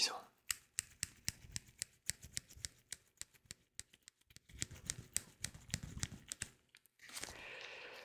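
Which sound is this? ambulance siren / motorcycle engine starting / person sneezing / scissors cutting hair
scissors cutting hair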